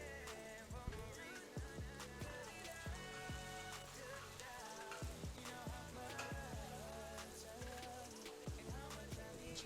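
Shrimp Alfredo sauce with Parmesan and Gouda is stirred in a hot pan. A busy bubbling sizzle runs beneath repeated scraping strokes and soft clinks, with music playing throughout.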